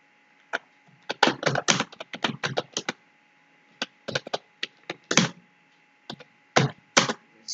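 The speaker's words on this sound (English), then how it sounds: "So let's type the command." Brisk typing on a computer keyboard as a Docker build command is entered, with clustered bursts of close, crisp key clacks separated by short pauses and no speech.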